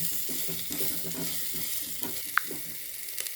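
Ground coriander-cumin paste fries in a pan with a short, soft sizzle and faint stirring scrapes, ending in a small sharp click and a couple of light taps, quiet and close.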